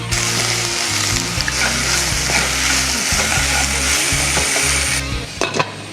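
Okra and tomato sauté in a pan with a loud, steady sizzle, joined by intermittent stirring and scraping; near and continuous, with no talk, easing slightly toward the end.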